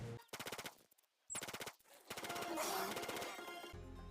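Gunfire in the ARK Ultimate Mobile game comes as quick rapid-fire bursts separated by short gaps, then a denser, noisier stretch of shots, all fairly faint.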